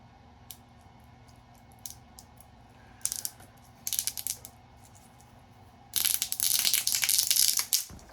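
A wire stripper machine strips a length of wire, giving short bursts of clicking, ratcheting mechanical noise that build into a loud, sustained grinding rattle toward the end, with a low hum underneath.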